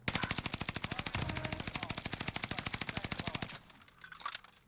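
Gunfire from a weapon in the shooter Warzone Pacific: a long, rapid, evenly spaced automatic burst lasting about three and a half seconds, then a few quieter shots.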